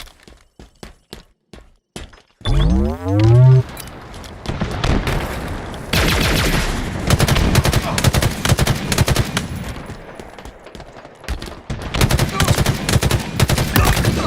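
Rapid automatic gunfire and sharp shots from Halo Team Slayer multiplayer, loud bursts with a deep boom early on, then dense overlapping fire and explosions that continue nearly without pause.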